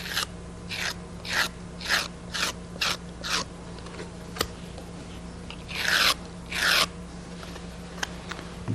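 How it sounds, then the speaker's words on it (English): A finishing metal rib scraping a clay joint smooth on a handbuilt piece, a series of about a dozen short rasping strokes in a steady rhythm, then two longer, louder scrapes, close up with no talk. "Then I'll go over that with a finishing metal rib, not the rubber, but the metal rib, and I just scrape that even."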